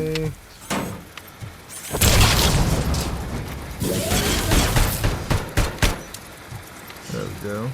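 Video game gunfire in RoboCop: Rogue City, bursts of shots and heavy blasts amid explosives, loud and dense through the middle with brief gaps, a voice heard near the start and end.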